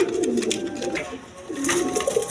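Pigeons cooing at a pigeon farm, with soft repeated throaty coos close by in a continuous murmur over about two seconds.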